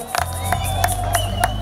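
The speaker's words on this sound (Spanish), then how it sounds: "Un aplauso para nuestro alcalde de Colquepata." Crowd cheering and whooping with some clapping for mayors at a community event in Lares, Cusco, Peru; a loud, dense mass of voices with a few sharper shouts rising above a steady roar.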